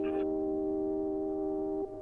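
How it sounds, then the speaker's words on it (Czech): A radio station jingle from an illegal broadcaster plays as a steady electronic tone with a brief higher chime at the start and a drop in level near the end. "Tato znělka patří ilegální rozhlasové stanici"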